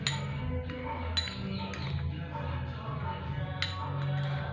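A spoon stirring red tomato sauce and green chilli sauce together in a bowl gives a few sharp clinks against the dish over a low, steady background hum.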